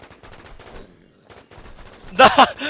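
Gunfire in the online survival shooter WarZ: a short, loud burst of rapid shots near the end, after stretches of excited talking.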